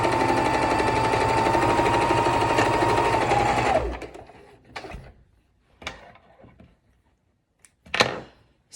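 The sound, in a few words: sewing machine sewing face mask fabric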